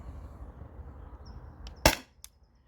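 One sharp, sudden shot from a Grimburg Jul V3 paintball marker running on a 20-ounce CO2 tank, a close, loud pop followed by a faint click in an otherwise quiet setting.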